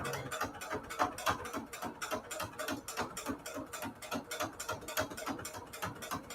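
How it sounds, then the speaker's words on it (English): A rapid, steady mechanical grinding and clatter from a running sewing machine, close up and continuous. "this still works. It's just I can hear this little grinding sound"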